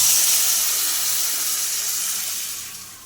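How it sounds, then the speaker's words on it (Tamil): Tamarind water being poured into a hot pan of sautéed onion and tomato for fish curry makes a close, loud rushing hiss and sizzle that fades gradually over a few seconds, with no talking. "புளி தண்ணி ஆட் பண்ணிடுவோம்"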